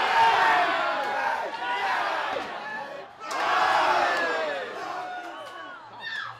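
A football match crowd of spectators roars and cheers in sustained waves, loud and dense, with swelling shouts rising and falling throughout, no individual talk standing out.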